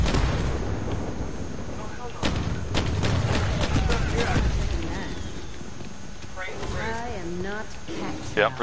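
Gunfire in a Black Ops 2 match comes as repeated sharp reports over a busy, dense game soundscape with constant rumble. A heavier cluster of shots lands midway, and warbling game effects follow near the end.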